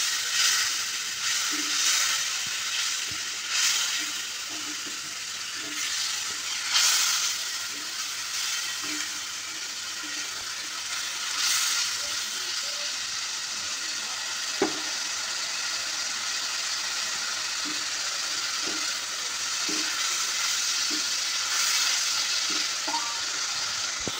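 Turmeric, cumin and red chilli powder with a splash of water go into a frying pan of shrimp and cabbage curry, giving a steady close sizzle and hiss with light stirring and scattered clicks throughout.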